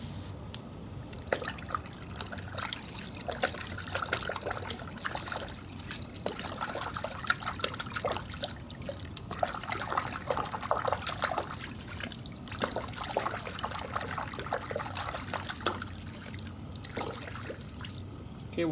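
Warm water with a measure of Chemical Guys V07 car wash soap pouring into a bucket, a continuous splashing trickle with scattered drips and clatters, fairly close and steady throughout.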